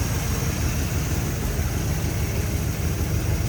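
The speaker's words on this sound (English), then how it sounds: "Smooth running engine." A steady, even idle from a 1961 Chevrolet Bel Air's 283 V8 hums throughout, low and continuous with no misses or sputters, fairly close.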